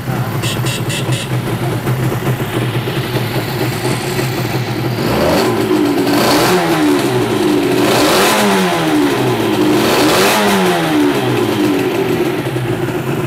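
A Suzuki RG 500 Gamma two-stroke motorcycle engine idles loudly, then revs hard in repeated rising and falling surges, close and continuous.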